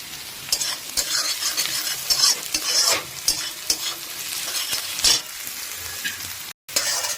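Onion, chili, ginger, garlic and eggplant fry over a high flame in a pan for baingan bharta, a steady close sizzle broken by repeated stirring scrapes, with a brief dropout near the end and no talk.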